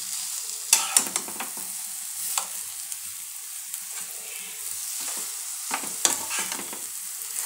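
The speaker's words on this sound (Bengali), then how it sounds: "আমি এটা একটু নাড়াচাড়া করে কষিয়ে নেব" A spoon stirs and sautés a spiced, salted-sweet mixture in a pan for a village-style fishless macher kalia, with intermittent scraping strokes over a soft, close sizzle and no talk.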